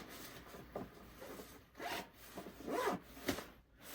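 A Marmot belay jacket's pocket zipper is pulled in several short rasping strokes, close and quiet, with brief pauses between each zip.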